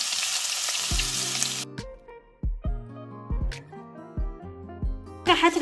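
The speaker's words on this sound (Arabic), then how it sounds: "هسه اول بداية راح احمس البصل" Onions fry in a little oil in a pan, with a bright sizzle at the start and again at the end, and tonal musical notes ringing in between.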